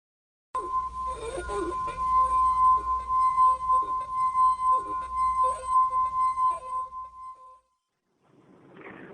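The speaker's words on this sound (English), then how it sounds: "here's my rendition of a humming wine glass" A wine glass hums with a sustained, pure ringing tone held for several seconds, steady and clear with faint background noise, before fading out.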